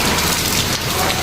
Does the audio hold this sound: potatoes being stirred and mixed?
no